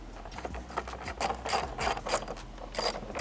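A hand ratchet clicks in rapid repeated bursts while loosening T25 Torx fasteners on the intake of a Porsche 992 911, close and alone, with short pauses between strokes.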